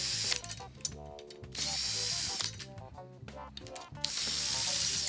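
A power drill whirs loudly in repeated bursts, ratcheting as it spins while loosening the tension rods of a 14-inch drum, with brief pauses between runs.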